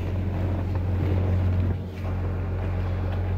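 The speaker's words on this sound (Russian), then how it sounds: "Сам работа двигателя работает четко, без всяких перебоев." A Rover 75 car engine idles with a steady, loud low hum and a smooth, even drone that holds throughout, with a slight dip near the middle and wind-like noise on the microphone.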